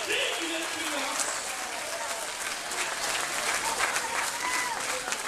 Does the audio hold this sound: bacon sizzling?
no